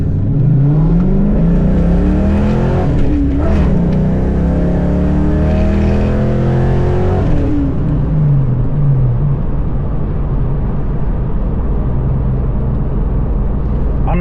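A car accelerates hard from low speed toward 60 mph, its engine note climbing in steady rising sweeps through several gear changes before easing to a lower, steadier drone, loud and close from inside the cabin.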